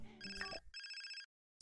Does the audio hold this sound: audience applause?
no